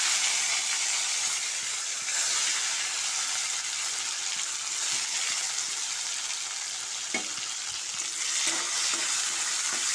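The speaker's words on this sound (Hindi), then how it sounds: "अभी मैं डालूंगी टमाटर" Tomatoes frying in a hot pan with ginger and bay leaves for paneer sabzi, a constant close hissing sizzle with occasional stirring scrapes and taps.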